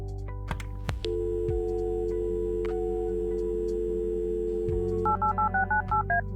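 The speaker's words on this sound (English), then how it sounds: "Our room phone. It's got an external line." Room phone with an external line in the Kathy Rain adventure game: a handset click and steady tone, then a quick run of about seven touch-tone dialing beeps at the end, heard close and alone.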